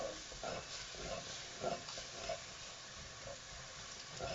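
Mushrooms cooking in a saucepan for a mushroom velouté soup, giving a quiet, steady sizzle with soft stirring scrapes and small bursts at intervals.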